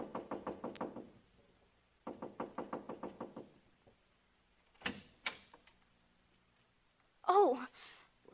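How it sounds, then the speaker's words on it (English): Knuckles rap on a house door in two quick bursts of about eight knocks each, then a couple of heavier thumps, close and crisp, followed by a brief voice. "So I just kept knocking and knocking."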